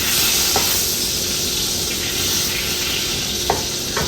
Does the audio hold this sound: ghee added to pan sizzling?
yes